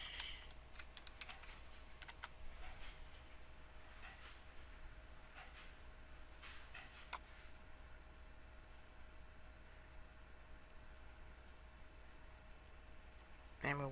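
Someone types a search on a computer keyboard, with soft clusters of key clicks over a steady hiss, quiet and close.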